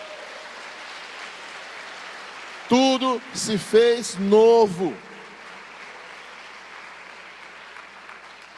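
A church congregation breaks into a short burst of applause after a preacher's spoken line, the clapping loud and close for about two seconds over a quiet room tone.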